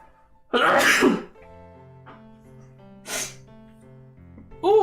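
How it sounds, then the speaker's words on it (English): A man lets out a loud, sharp sneeze, followed by a softer second burst, over quiet music. "I'm about to sneeze."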